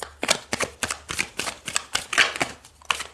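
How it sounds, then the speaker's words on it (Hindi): Tarot cards are shuffled by hand in a series of quick, crisp riffling bursts at a steady rhythm, close by, with no voices. "Let me shuffle the cards again."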